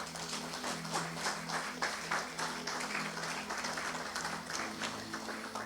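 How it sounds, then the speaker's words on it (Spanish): Church congregation applauding during a Spanish-language sermon, a steady wash of many hands clapping with some rhythmic pulsing and a low organ-like hum underneath, moderately loud and continuous. "Aplauso para el Señor."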